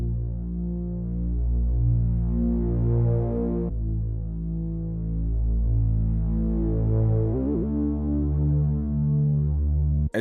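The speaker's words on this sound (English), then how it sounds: "one of my favorite basses to use is from Omnisphere and it's called Growler Moog." Growler Moog synth bass preset from Omnisphere in an R&B beat, playing deep, sustained throbbing bass notes with a growling harmonic buzz, changing pitch every few seconds, loud and alone.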